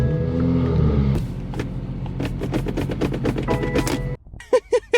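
A BMW 340i engine idles with a low hum, then shuts off about a second in, leaving scattered clicks and ticks and a few short bursts near the end.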